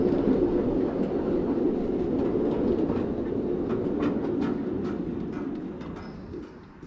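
The Klamath Western ride-on miniature train at Train Mountain rolls past with a steady rumble and clickety-clack of wheels on track joints, fading toward the end, with birds calling faintly nearby.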